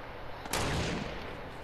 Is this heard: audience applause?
no